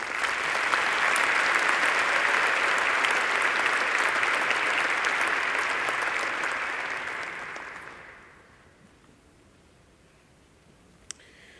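A graduation ceremony audience applauds engineering graduates with dense, sustained clapping that fades out after about eight seconds, leaving a quiet hall.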